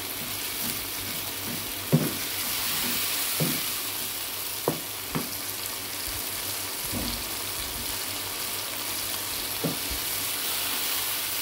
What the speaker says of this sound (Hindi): टमाटर को भी हम अच्छी तरह भून लेंगे।